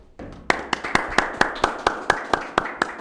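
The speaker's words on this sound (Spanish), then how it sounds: "Queremos despedirlo con un fuerte aplauso." Audience members at a community gathering clap in a slow, regular rhythm, about a dozen crisp, close claps spaced evenly over a background hum.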